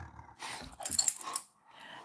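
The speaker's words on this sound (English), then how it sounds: "I have a crazy dog right here who does not care about life." A playful, excited dog growls and scuffles close by in short rough bursts, with some rattling mixed in and a brief quiet stretch near the end.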